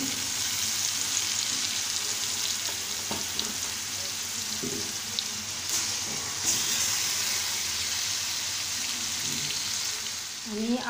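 Tilapia fish coated in ginger, garlic and cumin paste fries in a pan with a loud, continuous close-up sizzle and a few faint clinks.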